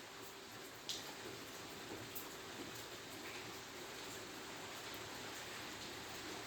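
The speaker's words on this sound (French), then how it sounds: "Et je peux vous dire qu'il pleut." Rain falls steadily outside a hangar used as a workshop, a soft even hiss with a few faint drips, moderately distant and continuous, with no talking.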